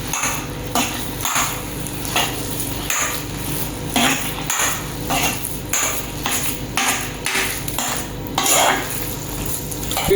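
Palkova is stirred in a pan with a utensil, giving repeated scraping and clinking strokes at an uneven rhythm, with sharper metallic knocks at intervals over a low sizzling background.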